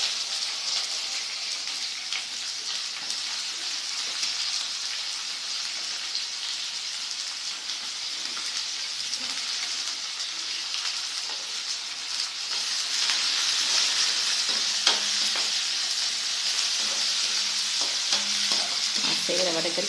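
Onions frying in hot oil in a pan with fennel and cardamom, a dense steady sizzle like rain that grows louder partway through, with occasional light utensil clinks.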